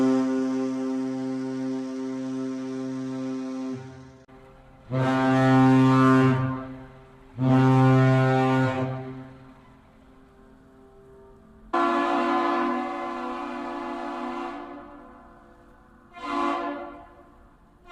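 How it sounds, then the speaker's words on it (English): A 1000-foot ship's deep horn in Duluth sounds a long blast, and the lift bridge horn answers with several more loud, sustained blasts separated by short gaps. The horns ring out clearly with no talking. "That was so great hearing the powerful horn from the ship and also the Duluth area lift bridge answering back"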